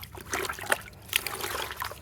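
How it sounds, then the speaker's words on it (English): Fresh water trickling and soaking into a Purifaaya clay water filter in Rwanda, a soft, close dribbling and splashing with small irregular spatters. "The water's just soaking straight into it."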